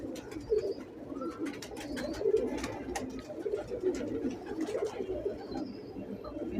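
Several breeder pigeons coo softly in continuous, overlapping murmurs, close by but faint, against light background noise.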